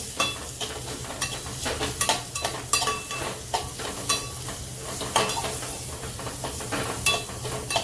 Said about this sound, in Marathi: हे घालून दिली चांगलं तेलावरती परतून घेऊ